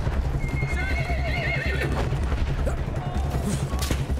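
In the Battlefield 1 video game, a horse whinnies and neighs over steady galloping hoofbeats while a battle rumbles underneath, loud and continuous.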